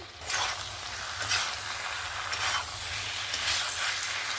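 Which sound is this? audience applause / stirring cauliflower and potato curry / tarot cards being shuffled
stirring cauliflower and potato curry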